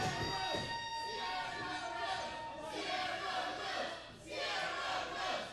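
A wrestling crowd roars and cheers for Sierra Rose in waves, loud and sustained, with a commentator's voice running over the noise.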